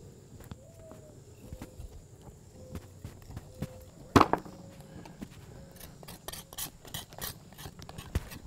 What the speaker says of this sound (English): just use your boning knife or the back of a knife to scrape off the sinew and really clean up those bones